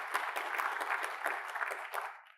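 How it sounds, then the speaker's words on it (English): An audience at a university inauguration ceremony in Pretoria claps for an ambassador, a steady patter of applause from a medium-sized crowd lasting a couple of seconds before quickly fading out. "Let's give him a round of applause."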